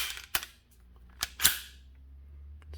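Trigger reset clicks on a Sig P320 RXP full-size pistol: a few sharp, close mechanical clicks, two of them in quick succession, against a quiet background.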